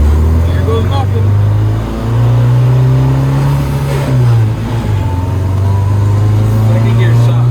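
Racecar engine with a bad second gear revs steadily and loudly through gear shifts, a strong low drone dipping briefly at each change, with voices faintly underneath.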